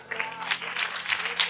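A church congregation claps for the Lord: quick, uneven handclaps from many people, fairly loud and close, with voices mixed in.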